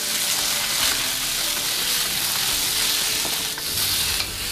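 Chayote and carrot sautéing in a pan with garlic and ginger, giving a steady, close, loud sizzle that continues without a break and with no talking.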